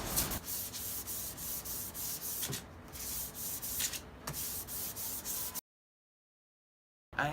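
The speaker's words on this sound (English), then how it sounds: "And then some hand sanding." Close-up hand sanding of a wooden light fixture, with steady back-and-forth scratchy strokes in a brisk rhythm, then a sudden silence before it resumes.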